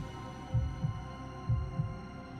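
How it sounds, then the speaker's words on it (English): Slow, heavy heartbeat pounding in a horror story, deep double thumps repeating twice over a low droning hum, close and muffled with no talking. "his heart pounding in his ears"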